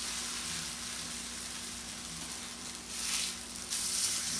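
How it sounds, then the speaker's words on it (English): Arepas sizzle in hot canola oil in a pan, a steady, close crackling hiss that swells slightly toward the end. "They will sizzle a little bit as they cook."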